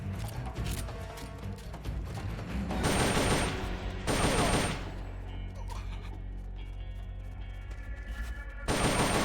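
Uzi submachine gun fire in Metal Gear Solid: Peace Walker, heard as several loud, short bursts of rapid shots separated by quieter stretches of game sound, close and prominent.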